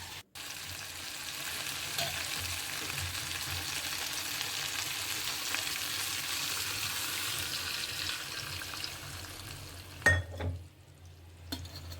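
Tempering sizzles hard in hot oil for drumstick saaru, a steady loud crackling frying hiss that runs throughout before cutting off near the end with a few stirring clinks.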